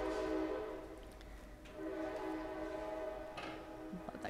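A passing train sounds its horn, a loud sustained blare over the rumble of railcars, fading and swelling across a few seconds.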